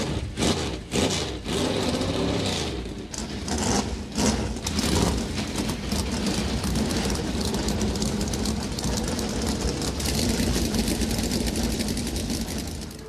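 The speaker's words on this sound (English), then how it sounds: "Drivers, start your engines!" NASCAR stock car engines firing up at Daytona, a dense field of cars roaring to life with sputters and revs that settle into a loud, sustained, rumbling idle across a busy track, no voices over it.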